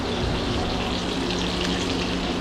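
Okra dry frying in a black skillet on a stovetop, a steady dense sizzle and crackle heard up close without a break, with no voices over it.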